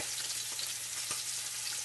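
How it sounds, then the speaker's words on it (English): Chopped carrots frying in olive oil in a pan, a steady bright sizzle with faint stirring ticks, close and continuous with no talking. "Then I'm going to go in with my half a cup of chopped carrots."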